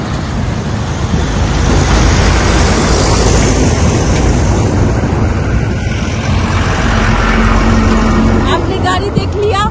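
A vehicle passing at the Dobhi check post in Gaya, a loud, continuous engine and road roar close to the microphone, with a voice speaking over it.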